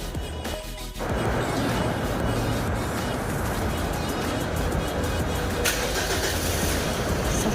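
A Mitsubishi Pajero Sport fitted with a push-start remote keyless system fires up via a Bluetooth smartphone app, cranking briefly before settling into a steady, close engine idle.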